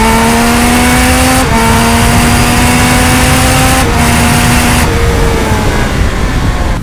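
A Triumph Speed Triple 1200 RS motorcycle drones loudly at around 130 km/h on the autobahn, its engine note stepping abruptly as the quickshifter clicks down through gears, with brief dips in pitch at each shift and no talk.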